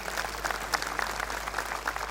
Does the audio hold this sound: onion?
no